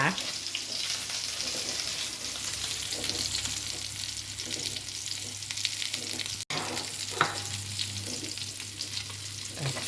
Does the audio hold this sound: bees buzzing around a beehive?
no